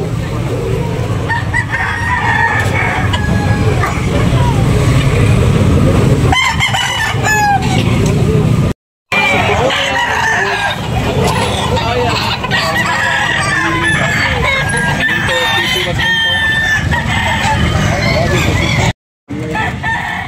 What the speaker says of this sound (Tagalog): Bintahan ng manok, mga manok.